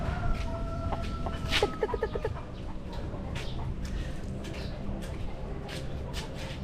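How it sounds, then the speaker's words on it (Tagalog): Chickens cluck in short bursts against a busy outdoor backdrop, one hen's rapid clucking standing out near the start before fading into ambient noise. "Ay manok oh. Ganda ng manok oh."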